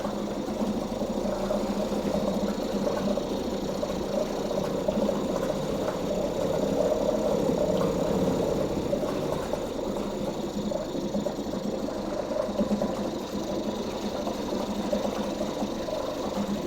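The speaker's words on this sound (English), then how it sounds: "Let's take away some choke." A small outboard boat engine that had sat unused for six months runs steadily with the choke being eased, a continuous close mid-pitched mechanical drone with no pauses.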